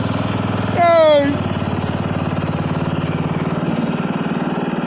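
Old riding lawn mower engine running steadily at close range, a constant rumbling drone throughout, with a short burst of a louder whining tone near the start.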